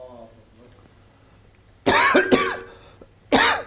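A man gives two loud, harsh coughs close together and then a third after a short pause, following quiet background talk.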